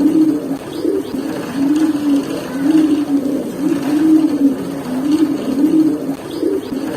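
Raw Pankhi pigeons, a breed kept in a loft, coo in a low, repeated rolling rhythm, several calls overlapping close by for several seconds with no talk.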